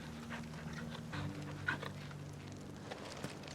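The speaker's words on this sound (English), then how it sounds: "Pat the dog." A dog pants steadily while being patted in a video game, soft and close, with light game music humming underneath and no talk.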